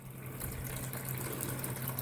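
Water drains out of a foot-powered laundry bucket through a failed tube, a steady, unbroken rushing trickle with a low hum underneath, close and moderately loud, with no voices.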